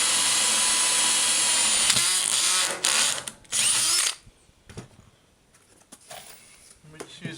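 A power drill whines loudly and steadily while pre-drilling holes in a vintage caravan floor, then stops in bursts and falls to quieter handling noises and short mechanical sounds.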